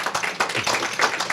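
An audience at a tech career talk breaks into clapping, a burst of close, crisp handclaps from a modest crowd that stays lively over a second or so.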